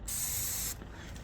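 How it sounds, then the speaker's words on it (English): A short aerosol burst sprays inside a car tire before the bead is re-seated, a single sharp, close hiss lasting under a second and then cutting off. "Just a little spray like that."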